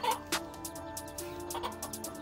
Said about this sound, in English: This mama chicken wasn't gonna let a snake come by and eat her babies.